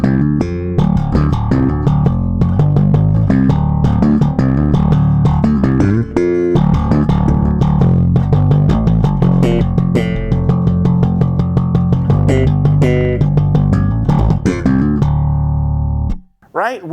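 A bass guitar lick is played through the solid-state side of a Markbass S.T.U. amp, with continuous, dense low notes and punchy plucked attacks for about sixteen seconds. It ends in a brief dropout and a short tail.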